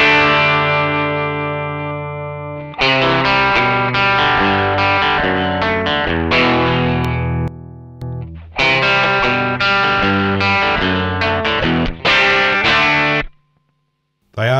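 Electric guitar run through JOYO American and Mosky Classic overdrive pedals with the gain pushed for more breakup, loud chords struck in bursts with a few short pauses and a brief silence near the end.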